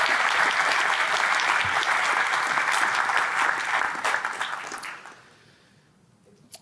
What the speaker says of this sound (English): another round of applause for all of our winners of this year's 2024 Titan Awards